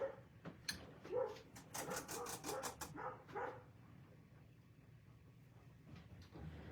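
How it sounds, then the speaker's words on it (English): A dog barks in a quick run of sharp yaps from a short distance, then quiets to faint room noise with a few soft clicks. "barking is driving me nuts"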